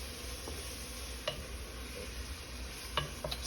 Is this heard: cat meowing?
no